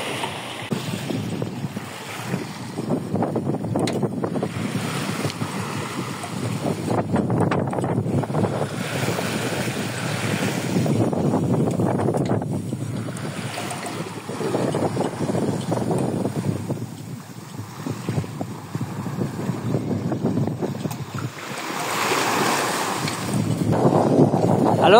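Sea waves and strong wind roar continuously around a sailboat crossing a rough channel between Martinique and Dominica, a dense, steady rush with surges of water and wind buffeting the microphone.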